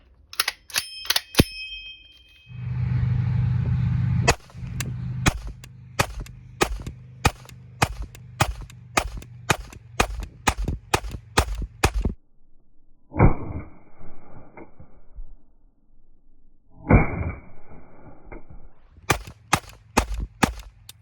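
An Intratec Sport 22 blowback pistol fires a quick, even string of sharp, close cracks until the magazine runs empty. A brief buzzing hum comes before the shots, and scattered clicks and tonal handling noises follow them.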